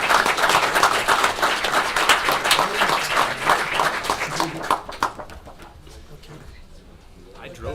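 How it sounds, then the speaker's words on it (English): Audience at a township committee work session claps in a dense, lively round of applause that tapers off after about five seconds, leaving a quieter room with scattered sounds. "give your parents a round of applause"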